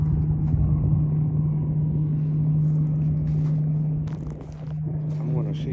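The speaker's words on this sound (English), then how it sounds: "There's a boat speeding by." Motorboat on Possum Kingdom Lake running past with a steady droning hum, fairly close at first and then fading slightly, with brief footsteps and handling noises near the end.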